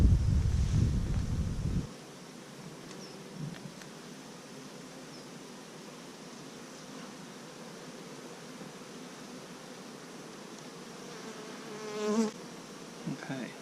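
Honeybees buzzing steadily around an open hive during a June inspection, a dense, fairly quiet drone with a few individual bees flying close past the microphone and a brief handling noise at the start.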